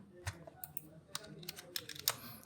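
Someone types on a computer keyboard in short, irregular bursts of crisp, close key clicks at low volume, with a brief pause midway.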